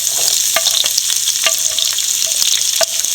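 Dried red chilies, shallots, green chilies and ginger frying in oil for broken wheat upma, a loud continuous sizzle with sharp crackles and spatters, alone without talk.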